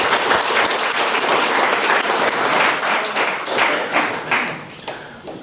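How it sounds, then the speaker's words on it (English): An audience at a community read-in gives sustained applause, many hands clapping steadily and fairly close, with a few sharper individual claps standing out as it begins to thin. "Yes, hand clap."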